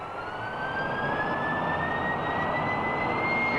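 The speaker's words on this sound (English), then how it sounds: "About to run up the port outboard gas turbine, remove the port outer SSS clutch gag." A naval ship's port outboard gas turbine running up aboard a 1975 Royal Navy vessel, a loud continuous roar with a high whine that climbs steadily in pitch as it spools up.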